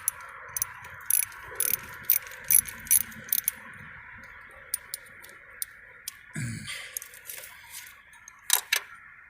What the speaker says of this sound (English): And then this here uses a 10mm wrench. So mine's already loose